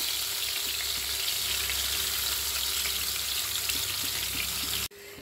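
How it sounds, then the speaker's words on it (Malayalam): Prawns sizzle and fry steadily in about three tablespoons of hot oil in a pan, making a loud, even crackle that cuts off abruptly near the end. "നമുക്ക് പ്രോൺസ് ഓരോന്നായിട്ട് ഇതിലേക്ക് ഫ്രൈ ചെയ്തെടുക്കാം."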